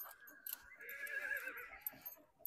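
A horse whinnies at a livestock fair where stallions and mares are shown for sale, one drawn-out neigh rising over faint crowd noise, with brief thumps that may be hooves.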